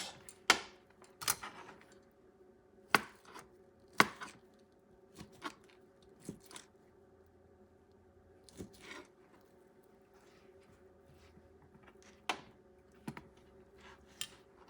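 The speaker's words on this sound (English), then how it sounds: "going to cut in quarters" Knife chopping food into quarters on a cutting board for chickpea and summer sausage stew, a sparse series of sharp, faint clicks and taps spaced irregularly across a quiet kitchen.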